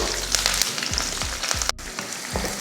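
Chopped onion sizzles in hot oil with popped mustard seeds, urad dal and curry leaves for masala sundal. A steady bright frying hiss runs throughout, with a few soft low thumps as ingredients drop in. There is no talk.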